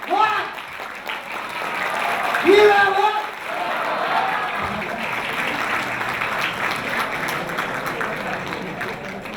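An audience applauds after a peace speech in Myanmar, a steady spread of clapping that carries on under a voice speaking over it.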